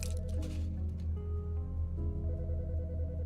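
A telephone rings in the video game Autopsy Sim, a repeated electronic trill heard over a steady low musical drone, with a brief squishy rustle at the start.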